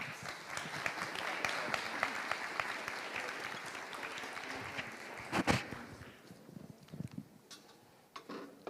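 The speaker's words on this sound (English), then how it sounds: "Please applaud them." Conference audience at a lightning-talks session claps for the next speakers, steady applause that thins into sparse individual claps and a few louder knocks toward the end.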